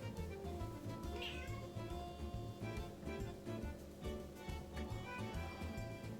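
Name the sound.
cat meowing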